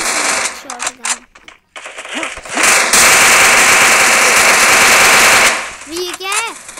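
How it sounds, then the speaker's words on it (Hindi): Gunfire from a double-barrel shotgun in the mobile battle game Free Fire Max, a loud sustained burst of shots with game effects, and voices talking before and after it. "Nalli shot gun."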